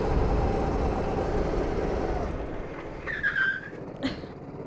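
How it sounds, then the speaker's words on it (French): A go-kart on a track skids under sudden hard braking, a loud rushing tire scrub that fades off over a couple of seconds, followed by a brief squeal and a short final scrape. "Et là, c'est le moment où je dois freiner d'un coup."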